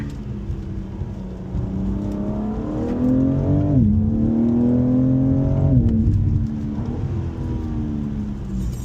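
BMW M4 Competition engine downshifting to second on a winding California road, a loud close growl dropping through rev changes with sharp pitch jumps at each shift, then pulling steadily again.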